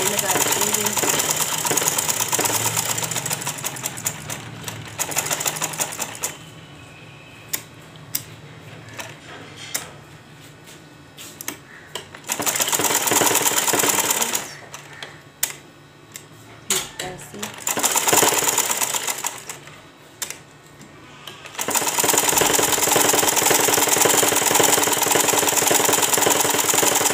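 An electric sewing machine stitching the neckline of an Indian women's garment runs in several loud bursts of steady whirring, separated by quieter pauses with small handling clicks.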